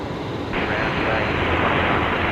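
Air New Zealand A321neo arriving on runway 01 right at Brisbane Airport, a broad steady jet roar that swells slightly partway through, loud and continuous.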